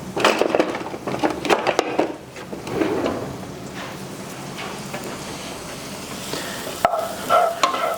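Leeks hit a buttered pan over medium flame, with a close sizzle under repeated scraping and stirring strokes, a few sharp knocks and a louder clatter near the end, and no talking.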